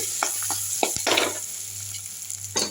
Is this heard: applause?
no